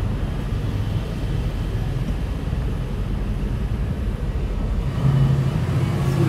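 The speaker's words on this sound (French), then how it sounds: "Regardez ce qui arrive. Magnifique AMG GT." A black Mercedes-AMG GT supercar on a Paris street: a steady engine and road roar close by that swells slightly toward the end, with no talk.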